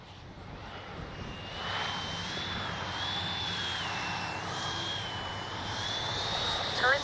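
An FMS Avanti S 70mm RC jet on a windy landing approach: a steady whining turbine tone rising and falling in pitch over broadband wind noise, fairly constant and moderately loud throughout, with no talk.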